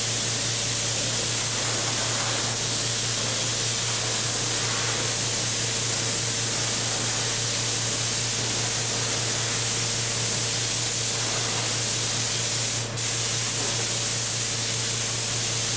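Steady broadband spray hissing as paint is applied to an aircraft wing during metal finishing, continuous and even for the whole stretch over a low constant hum, no talking.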